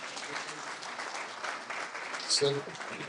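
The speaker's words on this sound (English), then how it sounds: "Big round of applause, Senator." Audience applause greets a state senator at a community event, a soft, continuous patter of many hands heard at a distance, with a brief voice and a faint tonal sound near the end.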